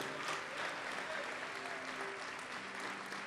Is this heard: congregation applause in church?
yes